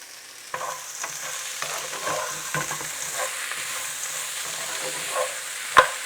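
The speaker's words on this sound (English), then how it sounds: "Next, I'm adding 125 grams of frozen peas." Frozen peas sizzle in a hot pan of masala rice base, a steady frying hiss with soft stirring scrapes and a sharp clink near the end.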